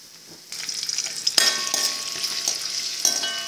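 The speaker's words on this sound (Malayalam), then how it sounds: "എണ്ണ ഒഴിച്ചതിന് ശേഷം അതിലേക്ക് ഇഞ്ചി, കറിവേപ്പില, പച്ചമുളകും ഇടുക" Ginger, curry leaves and green chilies hit hot oil in a pan, starting a loud, steady sizzle with a sharper burst partway through, plus occasional stirring scrapes and a light clang.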